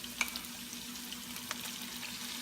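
Garlic sizzles steadily in a hot pan alongside onions for frog legs adobo, a soft, constant frying hiss with a few faint stirring clicks.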